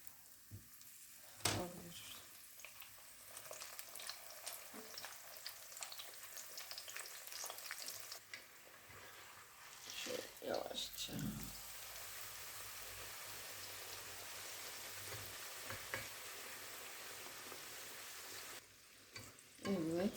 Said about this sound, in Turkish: Hepsini aynı şekilde yapacağım ve daha sonra kızartacağız.